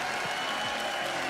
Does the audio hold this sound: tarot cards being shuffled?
no